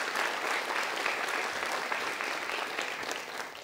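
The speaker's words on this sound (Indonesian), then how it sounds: "Silakan kita berikan tepuk tangan kepada satu orang super audience kita lagi." Studio audience at an Indonesian motivational talk show breaks into sustained, even applause that fills the room, steady throughout and tapering slightly at the end.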